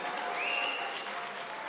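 Audience applause fills a quiz contest hall at the gas challenge semifinal as round three scores are read out, a steady, dense wash of many hands clapping at moderate distance throughout.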